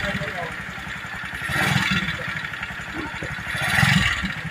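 Noisy 150cc engine of a TMX Supremo motorcycle, suspected of a side bearing or timing chain fault, idles with a rapid steady ticking rattle and rises briefly twice while someone talks over it.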